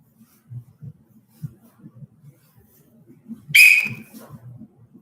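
A coach blows a whistle in a martial arts class: one sharp, loud, shrill blast about half a second long, rising over faint low murmuring talk.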